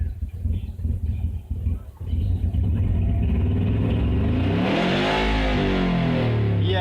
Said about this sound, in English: As I rev it up